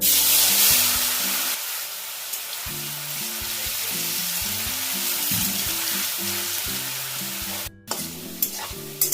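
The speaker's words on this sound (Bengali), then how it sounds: "তেল গরম হয়ে গেছে পনিরগুলো ভেজে নেব" Paneer cubes frying in hot white oil in a heated kadai give a steady, close, dense sizzle, with soft tonal music running beneath and a brief dip near the end.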